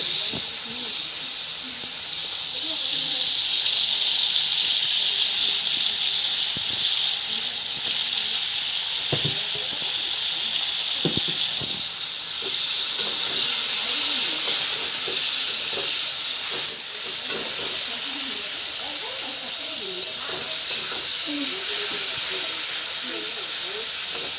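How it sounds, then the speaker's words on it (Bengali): Prawns frying lightly in a pan for Bengali malai curry, a steady loud hiss and sizzle throughout with a few faint knocks from stirring. "অল্প হালকা করে ফ্রাই করে নেব।"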